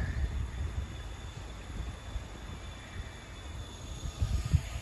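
A train rumbles along the railway beside the Rochdale Canal at a distance, a low steady clatter with a faint high whine, rising slightly near the end.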